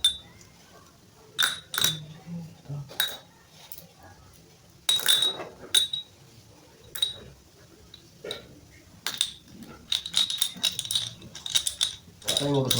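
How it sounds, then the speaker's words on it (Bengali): Skate bearings poured out during cleaning with bearing oil give irregular bursts of light metallic clinking and ticking, close up and fairly quiet, with occasional soft handling noises between. "এখন আমি বিয়ারিংগুলো দিয়ে দেওয়া না, বিয়ারিংগুলো এখন ঢেলে দিতে হবে।"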